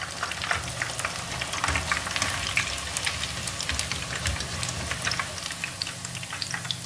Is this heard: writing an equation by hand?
no